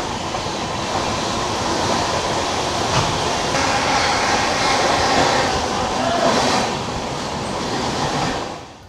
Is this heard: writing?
no